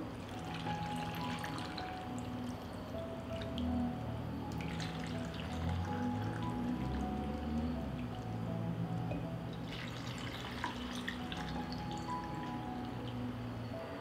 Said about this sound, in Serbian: Tegle ću napuniti sa hladnom vodom.